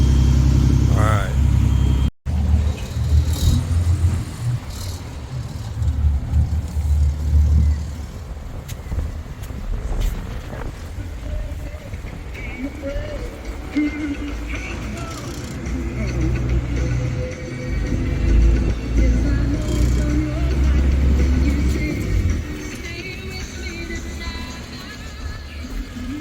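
Car engine droning steadily through a short ride on a rainy day in rural northern Spain, with road rumble and a brief dropout early on, while people talk over it at intervals.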